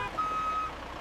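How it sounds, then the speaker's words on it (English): A small delivery truck reversing on a city street, giving one sustained electronic beep at moderate volume over low background traffic hum. "Smaller delivery trucks navigate the urban jungle to reach local retailers."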